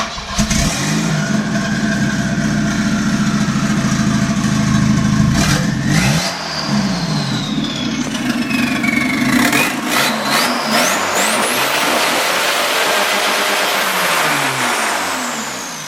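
A Volvo car engine runs steadily after an ignition timing adjustment with fouled spark plugs, idling loud and close, then revving up with a rising whine before settling back to a rough, continuous idle.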